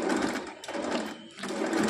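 A sewing machine stitching a princess-cut blouse runs in steady, continuous bursts with a short pause between runs, close and fairly loud with no talking.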